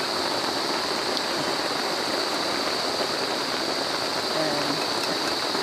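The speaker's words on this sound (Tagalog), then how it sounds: "Magdamag na umuulan" Steady rain falls continuously at a farm campsite in Dolores, Quezon, a dense even hiss with no pauses, close and fairly soft.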